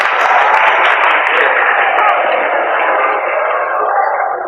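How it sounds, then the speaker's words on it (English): A steady wash of audience applause fills the room at a student mentoring session, clapping for a student who answered a question. It stays dense and even throughout, with no clear talk over it. "Give her a sound of applause"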